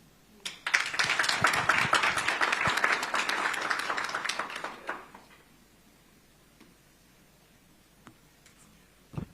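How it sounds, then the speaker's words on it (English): Applause from a small press audience in Addis Ababa rises sharply, rattles on for several seconds as scattered clapping, then fades out to near silence with a few faint clicks. "A round of applause, please,"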